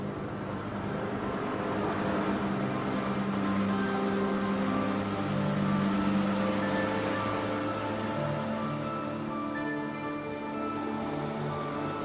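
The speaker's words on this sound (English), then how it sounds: "I got a ride in the boat with one of the local fishermen." A fisherman's motorboat runs steadily across a shallow lake in Umbria, its engine giving a continuous, fairly loud hum with layered harmonic tones throughout and no voices.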